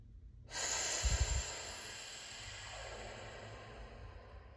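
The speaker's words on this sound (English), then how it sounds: "Another nice deep breath in" A single deep breath drawn in sharply through the nose, then a long, soft exhale that trails off, close and quiet with no talking.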